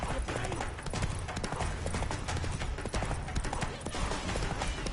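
Roach the horse galloping in The Witcher 3, a rapid steady clip-clop of hooves pounding close and loud throughout, with faint voices in the background.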